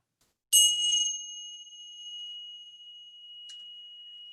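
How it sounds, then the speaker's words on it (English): A single bell struck to open a guided meditation rings out clearly, its bright tone sustaining and slowly fading for several seconds, with a faint second tap near the end. "I'm just gonna ring this bell."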